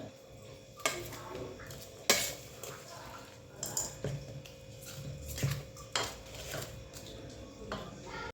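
Flour batter for Chettinad susiyam sweet, seasoned with a pinch of salt, being mixed in a bowl, with soft scraping and stirring broken by several sharp clinks of a utensil against the vessel, close and fairly quiet.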